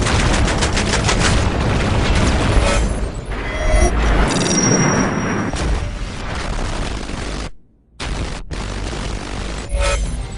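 Dense, continuous gunfire and booming explosions from the military shooter game Battlefield 3, loud and close throughout, with a brief cut to near silence before the bursts resume.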